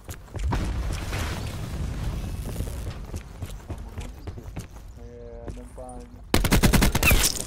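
Rapid automatic gunfire in the shooter game Black Ops 4 crackles in dense bursts, loud and near, with a quieter gap and brief tones before a final heavy volley.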